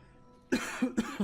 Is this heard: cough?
yes